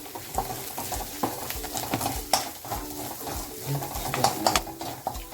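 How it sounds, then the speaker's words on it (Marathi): Mahabaleshwar-style ghati masala fries in a pan under repeated spoon scrapes and clinks against the metal, with a soft sizzle beneath and a faint bird call in the background. "मसाला बघा छान फ्राय झालेला आहे"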